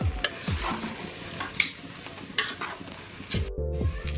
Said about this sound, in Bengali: এবার দেখো ভালো করে মিশিয়ে দিচ্ছি